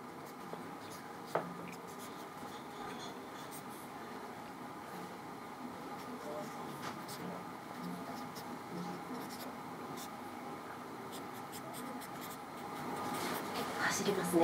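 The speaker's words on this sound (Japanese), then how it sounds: "走りますね、 ペンが。" Pen writing on paper, a close, quiet scratching and scribbling that runs steadily throughout with faint room noise and occasional soft voices.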